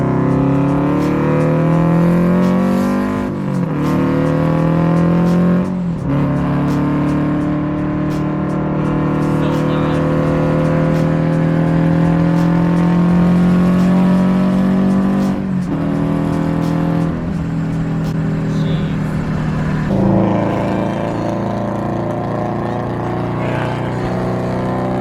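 A Scion FRS with an aftermarket exhaust revs up and down several times, then pulls away, its loud, raspy tone rising and falling close by.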